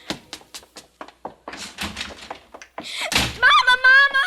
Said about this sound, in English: Margaret, haven't I told you not to slam the door?